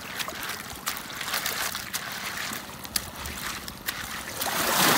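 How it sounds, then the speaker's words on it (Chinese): Sea waves wash in on a tidal beach during clam gathering, a continuous broadband rush and hiss with brief splashy surges, growing louder toward the end, with no voices. "浪有点大了"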